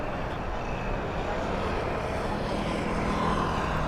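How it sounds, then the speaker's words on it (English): An airliner taking off at Heathrow Airport, a broad steady engine roar heard from a distance, with no voices. "I love a takeoff at Heathrow."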